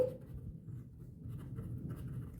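A pen writing out an algebra equation during a class 10 maths lesson on linear equations, a soft continuous scratching of strokes, close and quiet, with no talking.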